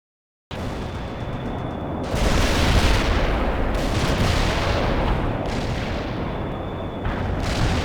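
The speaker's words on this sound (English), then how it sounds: "Heavy artillery barrage." Heavy artillery barrage in the war game World in Conflict: a dense, continuous rumble of overlapping booms and blasts, loud and sustained, swelling in waves with brief dips between salvos.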